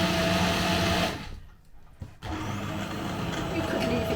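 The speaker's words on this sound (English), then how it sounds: "I'm going in with my blender, and this is my Ninja blender" A loud, steady motor whir of a Ninja blender blending leek and potato soup close by, briefly dropping and cutting out before surging back at full power.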